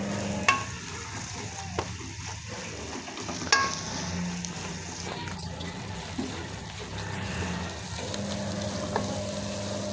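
Chicken filling with flour lightly roasting in a pan gives a steady soft sizzle and frying crackle, with occasional spoon stirring and scraping clicks throughout.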